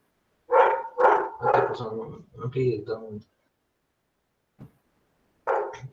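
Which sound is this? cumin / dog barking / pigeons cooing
dog barking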